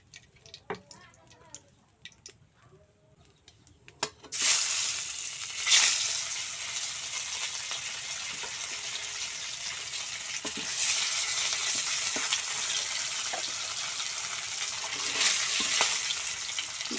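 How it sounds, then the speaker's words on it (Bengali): Silver carp pieces rubbed with turmeric and salt sizzle loudly in hot oil in a kadai, a steady bright crackle that bursts in suddenly after a few quiet seconds and keeps frying with occasional stirring clatters. "এখন এটাকে ভাজতে শুরু করে দেব"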